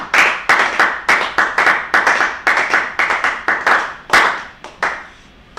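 Congregation clapping loudly and rhythmically during Easter prayers at a church service, a dense run of sharp, repeated claps that thins out toward the end.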